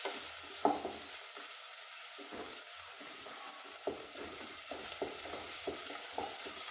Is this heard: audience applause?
no